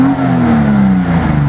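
A Datsun 240Z with a carburetor, running rich, revs as the throttle is blipped, a loud close engine note that sweeps slightly downward in pitch over a brief burst, with no talk.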